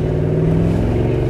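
A Mercedes G-Class with a fully modified exhaust idles nearby, a loud, steady low rumble with no talk over it.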